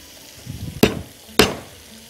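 Onions frying in butter give a soft, low sizzle, broken by two sharp scraping stirs of a spoon in the pan.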